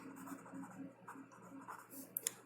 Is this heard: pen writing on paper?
yes